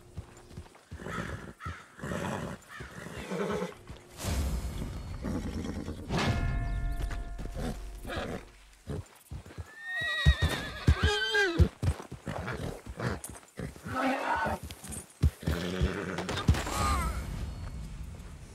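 Horse neighing and hooves clip-clopping in the Red Dead Redemption 2 game, with whinnies and hoof beats through a busy, continuous mix of game sounds at moderate loudness.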